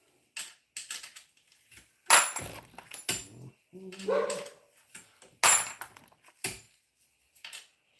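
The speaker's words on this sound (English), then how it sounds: "Doggy barking." Dog barking in a workshop during ammunition reloading for a Mosin rifle, with several sharp barks in bursts spread across the clip, fairly close and loud, interleaved with quieter clicks and handling noises.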